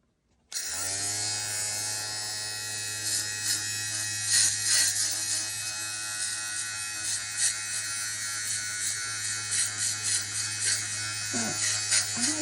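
Electric fabric shaver trimming the fuzzy yarn loops of a Cabbage Patch Kid doll's hair, a steady close buzzing motor hum with brief rougher zaps and pitch wobbles as the blades catch loops, continuous for the whole stretch.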